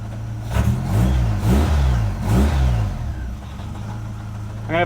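The engine of a hoarded muscle car revs in a few rising and falling surges over a rough, low idle rumble, loud and close, with no talking.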